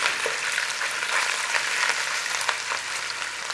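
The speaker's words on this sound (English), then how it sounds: "So we want to be going in there with that corned beef. We want to give it a break up and we want to brown it and crisp it." Corned beef browns and crisps in a steel pan with a steady, close sizzle and crackle of frying, continuous throughout with no talk.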